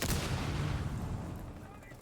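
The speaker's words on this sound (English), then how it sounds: "You can hear explosions going off" Heavy explosions boom during a competitive Rainbow Six Siege match, a loud low rumbling blast at the start that rolls on and slowly fades across the two seconds, with no voices over it.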